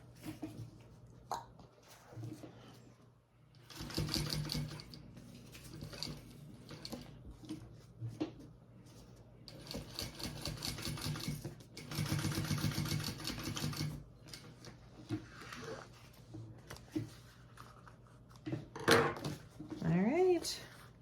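An industrial sewing machine stitches in intermittent runs, its steady mechanical chatter rising and stopping between handling noises, while a person talks quietly over it.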